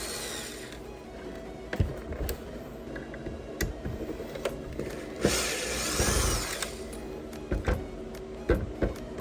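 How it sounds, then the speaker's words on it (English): A power driver backing screws out, heard as short intermittent motor whirs and ratcheting bursts with clicks and handling noise between them, close and steady with no talking. "I'm going to remagnetize my driver here so it pulls out the screws."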